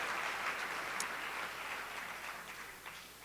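Warm round of audience applause at the Regenerate 2018 conference, a fairly faint, even patter of many hands that fades gradually, with no voices.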